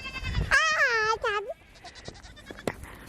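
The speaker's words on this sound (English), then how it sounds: "Here comes the goats." Young goats on a farm bleat loudly and close by, a few wavering calls in quick succession in the first second and a half, followed by quieter rustling and scattered knocks.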